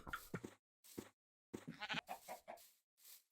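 Bleating of sheep in the Minecraft game, several separate calls in quick succession, loud and close with short silent gaps between them and no talk over them.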